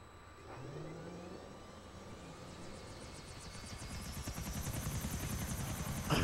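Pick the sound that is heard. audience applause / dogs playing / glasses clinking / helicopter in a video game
helicopter in a video game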